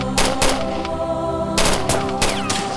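In a drama, machine gun fire cracks out in loud, rapid bursts, two clusters separated by a short lull and echoing sharply, with no voices.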